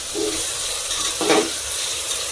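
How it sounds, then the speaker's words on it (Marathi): Chopped onion frying with a pinch of salt in a pan, giving a steady soft sizzle with a brief louder stir scrape near the middle. "थोडंसं मीठ घालायचं याच्यात जेणेकरून पटकन कांदा आपला फ्राय होईल"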